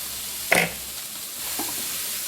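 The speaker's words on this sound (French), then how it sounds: "Alors, on brasse une dernière fois." Ginger shrimp sizzles in a pan under a bright, steady hiss, broken by one sharp scrape of a final stir and a softer scrape a moment later.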